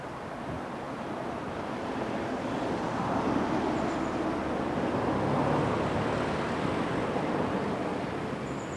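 Steady broadband rush of river water flowing beneath an old stone bridge in the centre of Ludlow, a continuous even wash heard outdoors with some wind, no voices.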